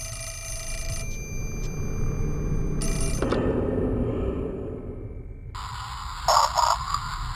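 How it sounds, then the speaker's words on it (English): An old-style telephone bell rings in bursts within the survival horror game Fatal Frame: Mask of the Lunar Eclipse, against quiet eerie ambience and a low hum. "Fine, I'll answer the phone first."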